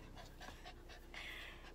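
A Maltese poodle-mix puppy pants in quick, soft rhythmic breaths close by inside a car, quiet and steady with no talking.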